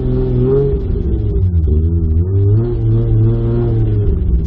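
Toyota Supra engine revving hard and steady on test hits, a loud mid-range rumble and roar rising and falling in pitch throughout, close and continuous with no talk.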